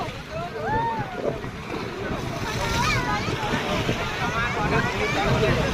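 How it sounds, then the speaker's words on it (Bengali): Sea waves at the Digha river mouth produce a steady, rushing wash of surf beneath people talking excitedly nearby. "অনেক বড় একটা ঢেউ আসছে, কত সুন্দর"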